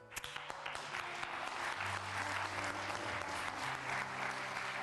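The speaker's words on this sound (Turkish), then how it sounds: "Alkışlarla Seba geliyor" Sustained applause from a television studio audience fills the space, steady and fairly loud, with a low tonal hum running underneath and no talking over it.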